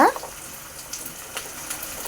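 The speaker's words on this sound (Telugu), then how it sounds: "ఇదంతా ఇలా ఫ్రై అయింది కదా, ఇప్పుడు వాటర్ పోసుకుందాం" Water pours into a pan of rava being fried for upma, a brief steady gush and sizzle heard up close, with no talking.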